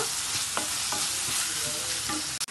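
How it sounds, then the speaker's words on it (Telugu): Onions with curry leaves and turmeric are stirred in a hot pan, a soft frying sizzle running underneath while the spoon scrapes the pan in repeated close strokes, with a short knock near the end. "ఉల్లిగడ్డలు వేసుకోవాలి, ఇందులో కొంచెం కరివేపాకు వేసుకోవాలి, కొంచెం పసుపు వేసుకోవాలి, కలుపుకోవాలి మంచిగా"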